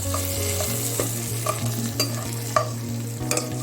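A spoon stirs and scrapes tapioca and meat in a hot frying pan for kappa biryani, with sizzling throughout and several sharp clinks against the pan, close and fairly loud.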